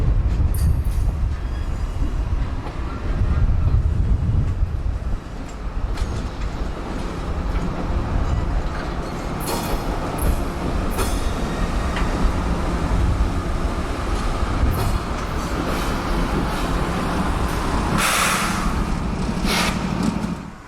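A circus train rumbles through switching operations as sections are joined, with continuous rolling clatter, metallic clanks and hissing bursts at middle distance and no talking.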